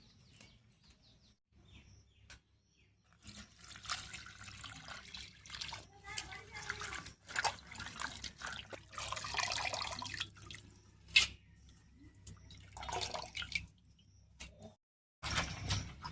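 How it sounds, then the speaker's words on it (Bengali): Gandhapata leaves being washed under running water in a kitchen, a steady splashing of tap water with intermittent knocks and clatter, fairly quiet and close, pausing briefly near the end. "পাতাগুলো খুব ভালো করে ধুয়ে নিতে হবে"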